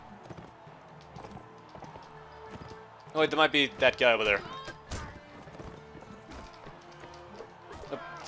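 Hoofbeats of a galloping horse in the video game Mount & Blade: Warband thud in a quick rhythm under game noise, while someone talks over them.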